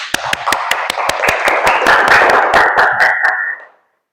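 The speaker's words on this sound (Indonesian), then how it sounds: "Kita beri tepuk tangan dulu" Students in a classroom clap together in a lively round, crisp individual claps standing out sharply over a thick spread of hands, carrying on steadily before cutting off abruptly into silence.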